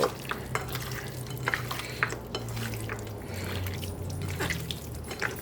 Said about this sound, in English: now we have to massage the marinade into the ribs